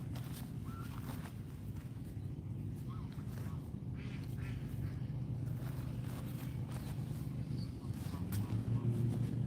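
Geese call faintly by a pond in Arlington, Texas, their scattered honks and quacks half-buried under a steady low rumble, with no one speaking.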